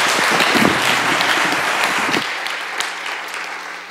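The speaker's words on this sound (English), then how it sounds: "let's give a little round of applause what we've seen so far." Congregation at a church service applauding, loud continuous clapping for about two seconds that then thins and fades away under a low hum.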